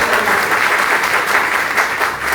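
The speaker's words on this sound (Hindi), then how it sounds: "ताली बजा सकते हैं?" Loud, dense audience clapping at a business seminar, a steady close wash of applause with a faint murmur of the crowd beneath.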